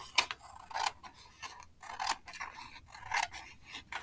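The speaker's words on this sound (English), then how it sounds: "You're going to cut with your scissors." Scissors snip through a single paper page in a series of short, crisp cuts, close and fairly quiet, with no talking.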